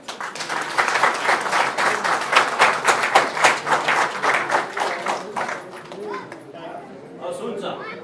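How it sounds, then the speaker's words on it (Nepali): Wedding congregation in a Nepali Christian church claps to give permission, a loud burst of many hands that thins and fades toward the end as voices murmur underneath. "यदि होइन भने तपाईले ताली बजाएर तपाईले अनुमति दिनुहोस्"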